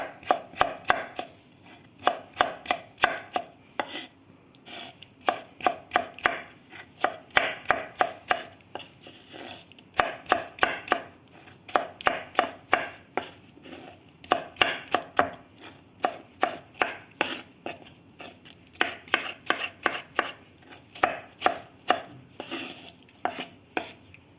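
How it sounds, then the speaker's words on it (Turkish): Knife chopping tomatoes on a board: quick rhythmic bursts of close, crisp strikes with brief pauses, repeating steadily throughout with no talking. "Onu da güzelce bir doğrayacağım."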